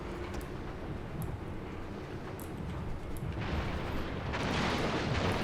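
A rumbling wash of booming naval cannon fire and explosions in the game Total War: Shogun 2, dense and loud, building toward a harsher crackling roar at the end as a ship catches fire.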